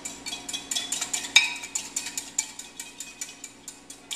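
Honey mustard glaze being stirred in a small pot over a grill fire for honey-glazed salmon, a steady run of light rhythmic scraping and clinking taps, moderately close and unaccompanied by voices.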